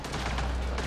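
Dense gunfire from Mass Effect: Andromeda played on PS4, a loud continuous rattle of rapid shots with heavy low rumble, steady throughout the brief burst.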